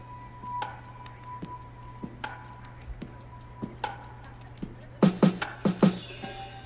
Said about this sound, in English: We just added lots of ambience,